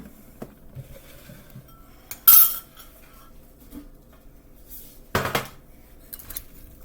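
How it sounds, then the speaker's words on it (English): A utensil stirs seasoning into ingredients in a bowl, giving faint scrapes and two sharp clinks against the dish in an otherwise quiet kitchen. "And then you're going to give this a nice stir."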